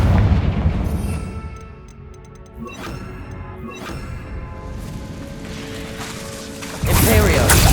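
Fire spell blasts in Hogwarts Legacy on PS5, several sharp bursts with crackling magic effects over a dense orchestral and ambient game soundtrack, closing in a loud sustained roar.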